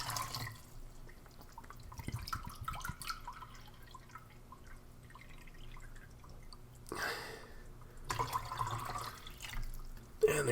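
Water is poured into a Swedish 24-hour ration pouch, a faint trickling and dripping with quiet splashes that swell in two brief louder bursts near the end.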